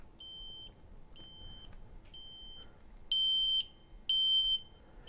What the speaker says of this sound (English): I'm going to cover the audible alarm because it's going to be quite loud